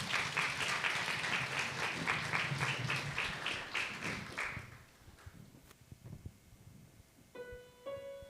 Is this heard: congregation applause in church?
yes